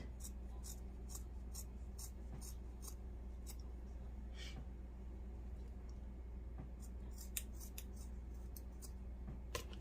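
Scissors snip craft material for a no-sew Valentine Cupid gnome, short crisp cuts repeating irregularly over a steady low background hum, fairly faint and close.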